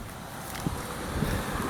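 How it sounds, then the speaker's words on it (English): Gusty outdoor wind buffets the microphone with a steady low rumble and a few soft thumps, alone and fairly loud for a brief moment. "Look how windy it is."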